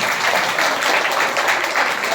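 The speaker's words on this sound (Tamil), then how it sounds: "அவருக்கு நல்ல ஒரு கைத்தட்டல் கொடுக்கலாமா?" An audience at a church kids' program claps for a guest, giving loud, dense, sustained applause that runs steadily through the whole short moment.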